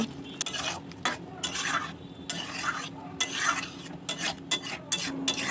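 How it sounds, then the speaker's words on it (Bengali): A spoon stirs spice paste and sugar through ridge gourd and potatoes in a pan, brisk scraping strokes in an uneven rhythm over a soft, constant sizzle, close up with no voices. "তৈরি করে রাখা পেস্ট ও 1 চা চামচ চিনি দিয়ে ভালো করে সবজির সাথে মিশিয়ে অল্প কিছুক্ষণ রান্না করে নেব"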